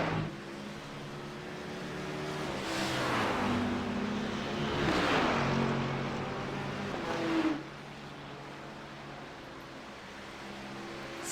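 Mercedes GT3 race car at Le Mans, engine notes rising and falling as cars accelerate and pass, with a sharp pitch drop and a sudden cutoff near the end, heard at moderate distance.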